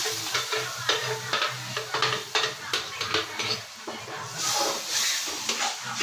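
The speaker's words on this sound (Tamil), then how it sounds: "அது நல்லா ஃப்ரை ஆனோடனே நம்ம முன்னாடி செஞ்சு வச்சுருந்த பேஸ்ட் அதில் ஊற்றுறாங்க." Spiced paste is poured into frying coriander powder and garam masala for an egg gravy, with spoon stirring, scraping and clinks against the pan over a steady sizzle, near and moderately loud.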